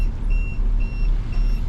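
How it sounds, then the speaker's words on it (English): A boat's collision warning alarm beeps in three evenly spaced high tones over a steady low engine rumble aboard the vessel. "That's my alarm saying there could be a collision if you don't watch out."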